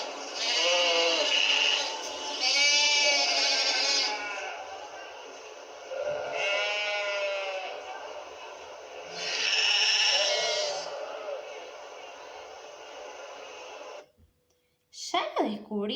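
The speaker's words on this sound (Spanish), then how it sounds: "Me parece que es una oveja." A sheep bleats several times in long wavering cries separated by short pauses, loud and close, ending in a brief moment of silence followed by a short noisy burst.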